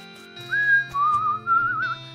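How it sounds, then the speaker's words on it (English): A woman in the West of Loathing video game whistles a short, wavering, rising and falling tune in three quick phrases over a low background hum. "This lady is still whistling to beat the band."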